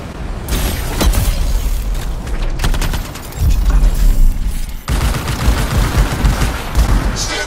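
Loud sustained gunfire from the video game Anthem, dense rapid shots and bursts with booming impacts filling the scene continuously and close up.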